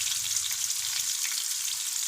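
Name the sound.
onions frying in a pan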